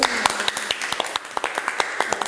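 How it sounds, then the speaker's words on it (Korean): Scattered claps ring out from a small audience honoring a choir that won two gold medals for South Korea at the 10th World Choir Games, coming as a brisk, uneven patter of sharp hand strikes at moderate volume. "박수 한번 네"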